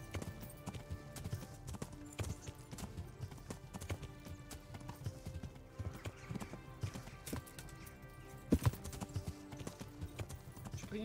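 Horses gallop in Kingdom Come: Deliverance with a fairly faint, continuous patter of clip-clopping hooves, steady and layered, with a brief louder knock near the end.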